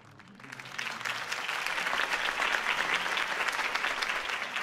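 A crowd bursts into applause after a campaign speech by Harvey Dent, swelling quickly into steady, dense clapping that holds for several seconds.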